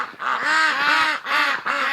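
Ducks quack loudly and repeatedly near midnight on a late November night outdoors, a dense overlapping chorus of nasal calls in several bursts with brief dips between them.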